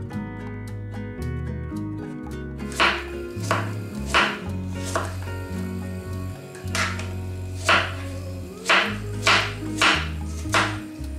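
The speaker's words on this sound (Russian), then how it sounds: "Нарежем кусочками на такую форму." A knife chops peeled apples into medium pieces on a board for a classic charlotte apple pie, giving a series of crisp, evenly spaced cuts that grow more regular halfway through, all under steady background music.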